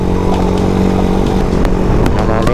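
A Suzuki Raider 230cc motorcycle engine, still in break-in, runs steadily and loudly close by with a continuous buzzing drone and slight rises in revs.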